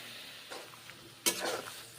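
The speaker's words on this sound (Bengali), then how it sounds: "মাশরুম পটল নেড়ে চেড়ে কষে নিচ্ছি" Pointed gourd and mushroom curry, seasoned with turmeric, salt and a splash of water, gets stirred in a pan: two quick scraping stirs over a faint, low sizzle.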